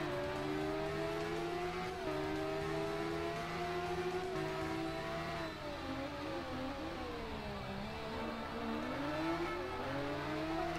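MV Agusta F3 675 motorcycle at full throttle in the racing game Ride, a continuous high-pitched engine howl rising and dipping slightly through gear changes, loud and unbroken for the whole stretch.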